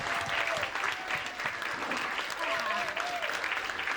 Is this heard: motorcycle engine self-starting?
no